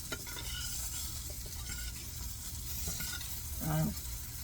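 Green tomatoes and squash fry in a pan with a steady hiss of hot oil, broken by a few scraping stirs and one brief louder clatter near the end.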